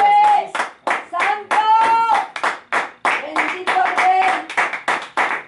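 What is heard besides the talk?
congregation clapping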